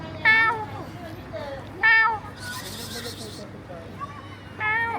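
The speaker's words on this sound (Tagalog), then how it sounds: "uy, may kuting." A kitten near a local shop in Baofeng, Zhangjiajie, China, gives three clear, high meows spaced a second or two apart. Background chatter and street noise run underneath.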